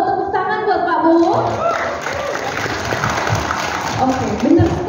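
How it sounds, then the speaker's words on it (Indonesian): An audience claps for a guest speaker at an Indonesian talk event, a burst of applause rising mid-clip and continuing under loud overlapping speech and an amplified voice. "Tepuk tangan buat Pak Bowo."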